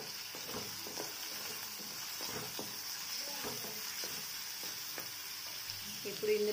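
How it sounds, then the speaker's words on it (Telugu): Green chilies and onions fry gently in oil over tempering seeds, making a low, even sizzle with scattered small ticks and light stirring, fairly quiet throughout. "इंदुलो पच्चि मिरपकायलु उल्लिपायलु वेसुकुन्नाम। इदि कोंचेम फ्राई अव्वाली"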